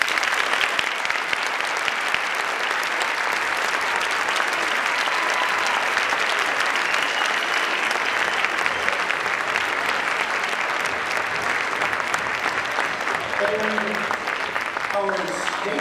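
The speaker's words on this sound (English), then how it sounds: "applaud so that you can really hear who they are and really give them the congratulations that they've earned" An audience at a high school speech tournament's state finals breaks into sustained, dense applause for the runners-up in dramatic duet acting, filling the hall evenly, with a voice speaking over the clapping near the end.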